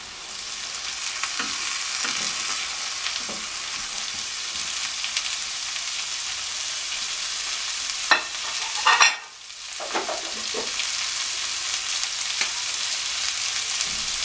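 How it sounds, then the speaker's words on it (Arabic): Chicken breast sautéing with onion, garlic and colored peppers in a pan, a continuous close sizzle with occasional stirring scrapes and a brief louder clatter midway, no talk. "هشوحهم برضو مع البصله"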